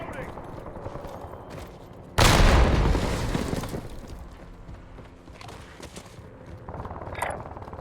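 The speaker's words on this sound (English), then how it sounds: "Throwing grenade!" A grenade blast in the Halo video game bursts out suddenly, a loud booming explosion with a long rumbling decay, set among quieter gunfire and game noise with some talk.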